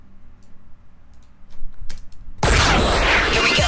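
Radio jingle with crossfaded music: faint clicks and scattered ticks in near silence, then music abruptly swells in loud and dense, continuing at full level to the end with no voices.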